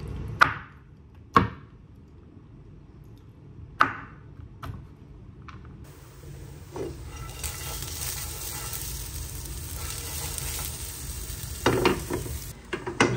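A knife chops washed dry fruits on a board in a Dubai home kitchen, four or five sharp, separate chops over quiet air. A steady broadband hiss then takes over, with a few more clicks near the end.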